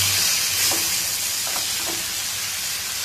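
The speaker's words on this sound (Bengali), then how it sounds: "আলু ফুলকপি এবং মাছের টুকরোগুলো দিয়ে দিলাম এবং একটু ভালো করে নেড়ে নিলাম" Potato, cauliflower and fish pieces fry in hot oil with a steady loud sizzle and hiss, while a few soft scraping knocks of stirring sound through it, close up with no voices.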